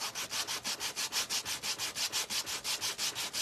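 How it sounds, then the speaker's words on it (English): A sanding block rubs back and forth over the edges of a Dollar Tree wooden birdhouse cutout, making a brisk, regular scratchy rasp of about six strokes per second, close and steady with no talking. "I'm going to take my sanding block, you guys, and I'm going to rough the edges up just a little bit"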